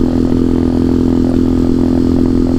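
Small engine of a short-wheelbase CT70 clone minibike droning steadily while riding, a loud, even low hum with no clear rise or fall in pitch and no talking.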